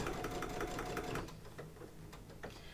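A home sewing machine stitches embroidery, a quick steady clatter of needle strokes that stops partway through, followed by a few scattered clicks and handling knocks.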